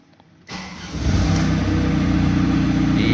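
A diesel Audi A4 1.9 TDI cranks briefly after a short quiet pause, then catches and settles into a loud, steady, close-up idle with a low rumbling throb.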